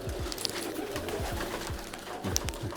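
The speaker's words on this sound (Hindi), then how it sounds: "है कबूतर" Pigeons coo in repeated soft, throaty calls, overlapping at close range against a faint background hiss.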